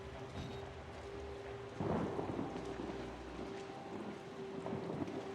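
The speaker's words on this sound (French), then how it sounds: "Fait de l'orage." A thunderstorm in the horror game Outlast: a deep rolling thunderclap breaks over constant heavy rain and lingers as a low rumble before fading back into the downpour.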